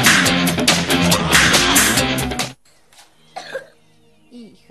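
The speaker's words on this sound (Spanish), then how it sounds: "Hija, tenés tos." A girl coughs in a cough syrup commercial, a few short coughs heard after bright music cuts out.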